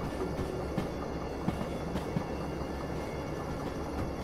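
A train rolls along steadily in the railway simulator Derail Valley, a continuous low rumble with faint periodic clacks from the wheels and no talk.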